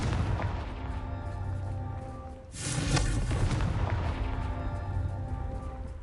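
A Confringo fire spell bursts in the Hogwarts Legacy video game, a sustained roaring blast that swells after a brief dip and rumbles on over a steady game background.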